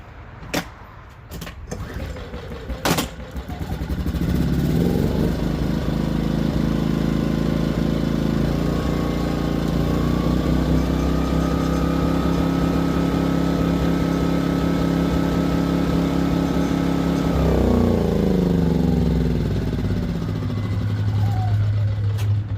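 A Powermate 2000i inverter generator, freshly fitted with a replacement carburetor, starts after a few sharp knocks and settles into a loud, steady economy-mode hum, its pitch dipping briefly near the end before holding even again.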